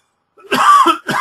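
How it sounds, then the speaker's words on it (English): A person coughs and clears their throat in a quiet room during allergy season, one harsh near burst after silence and then the start of a second. "It's allergy season down here in Texas, and so everybody's coughing."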